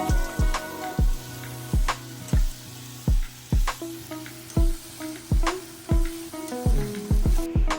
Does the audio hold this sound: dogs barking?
no